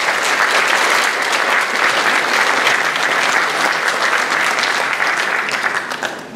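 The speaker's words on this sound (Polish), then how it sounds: "I myślę, że naprawdę należą im się wielkie brawa" Audience applause at a Polish singer-songwriter festival, Oranżeria 2022, in Radzyń Podlaski: a dense, steady wash of many hands clapping, loud and sustained throughout before easing slightly at the end.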